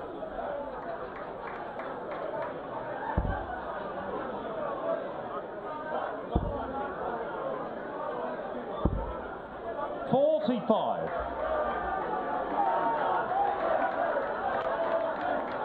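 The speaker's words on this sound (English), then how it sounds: "The crowd enjoying themselves here at the Circus Tavern." A darts crowd chats at the Circus Tavern during a World Seniors Championship quarter-final, a steady murmur of many voices. A few sharp, isolated thuds stand out over the babble.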